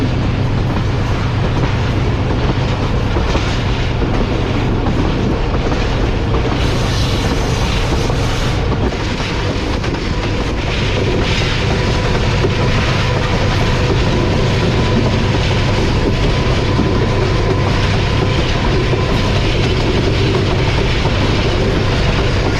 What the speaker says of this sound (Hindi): तो अब ट्रेन अप्रोच बना रही है हमारी सलाह आलमगीर रेलवे स्टेशन